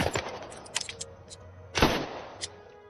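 Sharp gunshots fired while testing weapons in a film scene, a scattered series of short cracks with one louder, heavier blast near the middle, set against a quiet background.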